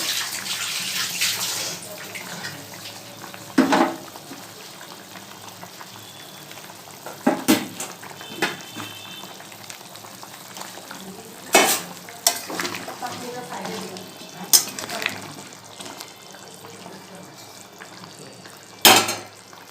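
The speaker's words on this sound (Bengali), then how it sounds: "চলো ঝোলটা পুরো ফুটে উঠেছে এবার ভেজে রাখা কোপ্তাগুলো দিয়ে দিলাম" Raw banana kofta curry gravy bubbling in a pan on the stove, with a spoon scraping and clinking against the pan in sharp bursts every few seconds; no talking.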